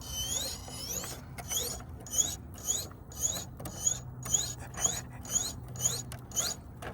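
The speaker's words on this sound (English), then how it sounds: "There's so much torque getting put into that servo right now" The steering servo of an Axial SCX10 III RC crawler strains under heavy torque on a night crawl, giving close, rhythmic creaking whines that repeat roughly twice a second over a low mechanical hum.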